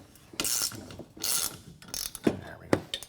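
A ratchet loosening the front mounts of body armor on a Yamaha Grizzly 700 ATV, several bursts of rapid clicking with short pauses and a few sharp knocks, close by.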